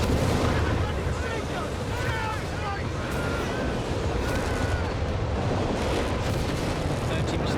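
Continuous artillery barrage in the strategy game Company of Heroes 3, a dense unbroken roar of blasts and rumble, with a voice talking over it.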